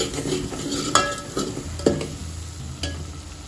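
Homemade black masala frying in oil in a pan for chicken curry, a steady close sizzle with a few spoon scrapes and taps against the pan.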